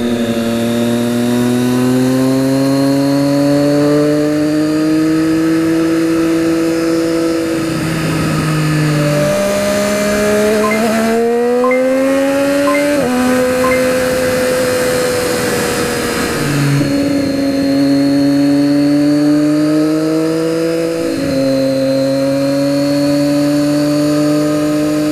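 A 2013 Triumph Daytona 675R motorcycle engine revs loud and close while being ridden, pitch rising through the gears with brief dips at shifts, sustained throughout with no talk.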